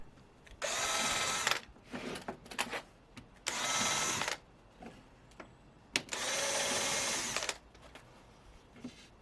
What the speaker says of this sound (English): Then I drill short pilot holes in the case and through into the panels, not too deep.